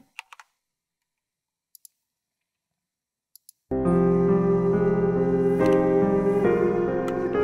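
A few sharp computer mouse clicks sound in near silence while working in the Cubase mixer, followed by a sudden loud burst of sustained music playback filling the rest.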